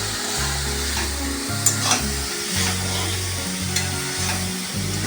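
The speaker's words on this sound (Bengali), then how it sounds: "এখানে নারকেলটা ভাজা হচ্ছে গুড় দিয়ে" Grated coconut cooking with jaggery in a pan, a loud continuous sizzle with scraping stirring strokes and a low rhythmic rumble, no talking.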